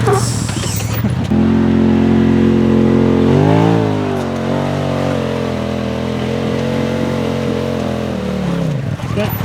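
A UTV engine revs hard on dirt during a sticky tire shootout, a loud, close, sustained tone that rises in pitch as the tires lose traction, then drops away at the end.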